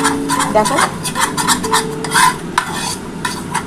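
Gram flour (besan) frying in a pan, stirred briskly with a utensil that scrapes repeatedly against the metal under a soft sizzle, with a brief spoken word.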